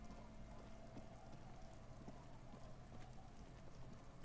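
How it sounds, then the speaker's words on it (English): Rain falling in Disco Elysium, a faint, steady hiss of rainfall with soft scattered drops, continuous and unbroken with no voices. "It's getting late, and it's raining."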